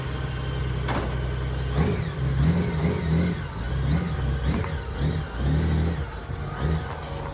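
A Honda Goldwing trike's engine idles with a low, steady rumble while the revs rise and sag in several swells, heard close and loud, with no talk over it.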